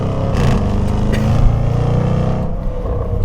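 Loud, steady V8 engine roar from a Jaguar F-Pace SVR with its 5-liter V8, a deep continuous rumble held at close range for a few seconds with no talk over it.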